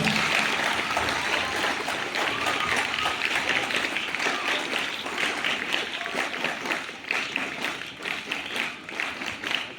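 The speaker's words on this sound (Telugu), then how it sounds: "మీ అజయ్కి, రేష్మా గారికి గట్టిగా చప్పట్లు కొట్టాలి" Loud sustained applause from a crowd at a school sports celebration at AC Nagar MSM Municipal High School, for Ajay and Reshma: dense, continuous clapping lasting nearly ten seconds, gradually thinning toward the end.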